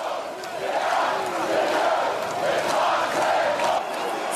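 A dense, continuous roar of celebrating football supporters, loud and sustained with shouting voices blending into a wall of crowd noise, no single voice standing out.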